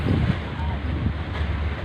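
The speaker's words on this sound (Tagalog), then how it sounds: "Ang sarap ng hangin" Steady wind rushes and buffets across an open-air viewpoint, a full, constant roar close to the microphone, with faint voices beneath.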